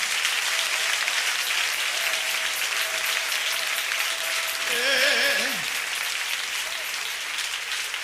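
A church congregation applauds during worship, a dense, sustained wash of clapping from many hands, with a brief sung or shouted voice rising above it midway.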